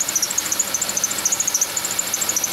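A running Chevy Venture engine with a worn, noisy idler pulley chirps in a fast, steady repeating squeak above a low idle hum, close by.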